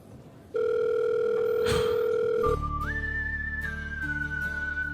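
A telephone dial tone sounds as a call is placed: a steady, loud, continuous tone that then gives way to a shifting, higher electronic tone, with no voices.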